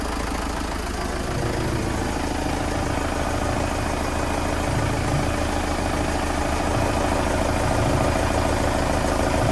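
A steady boat engine idles throughout, a constant low rumble with a faint rhythmic knock and no other sounds.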